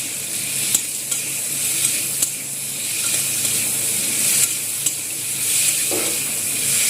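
Soybean chunks sizzle loudly in a pan while a utensil stirs them, scraping and tapping at irregular intervals over a constant hissing fry. No voices.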